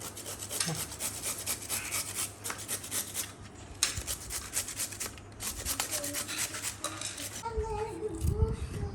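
Carrot grated by hand in a home kitchen while making a semolina and potato breakfast dish, giving repeated rasping strokes in quick bursts with short pauses, close and fairly quiet, with a voice speaking at times.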